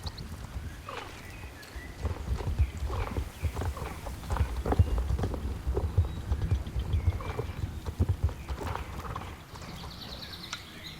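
Horse hooves clip-clop at a steady walking pace in the video game Star Stable Online, close and fairly loud, with a few rustling mechanical sounds mixed in.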